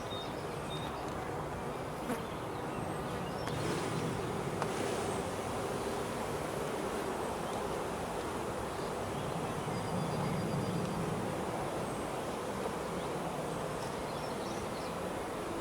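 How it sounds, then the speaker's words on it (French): Honey bees hum steadily around a small nucleus hive during hive setup outdoors, a continuous dense buzz that stays even and close for the whole stretch, with no voices. "on va y remettre quelques abeilles, qu'elles puissent tenir bien chaud la petite ruchette"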